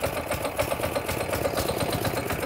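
A small gasoline engine on a concrete power trowel running steadily after a pull start, a fast even chugging drone, close and continuous with no voices.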